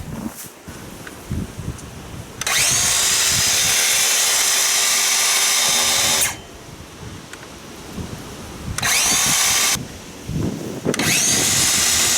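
A power saw cutting wood roars loudly in three long bursts, whining steadily while cutting, with quieter gaps of rustling and wind noise between them on a windy day.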